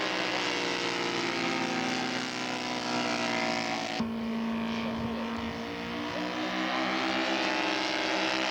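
Several Proctor kit scale model airplanes fly past at a show, their propeller engines droning steadily at a distance with a continuous, layered whine and a brief dip and shift midway.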